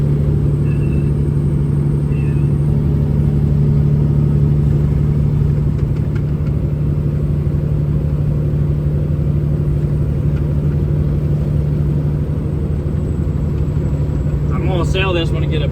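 A Kenworth W900 truck engine working under an extremely heavy load, a loud, steady low rumble that drones without a break throughout, with faint brief chirps near the end.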